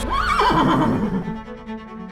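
A horse whinnies loudly and up close in a single long, descending call that trails off into a low, fading rumble, with no talk.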